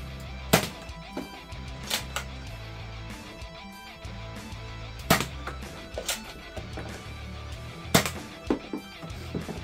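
Nerf Fortnite 6-SH blaster firing Elite darts, six sharp individual shots spaced a second or two apart over a steady background hum, each a crisp close snap.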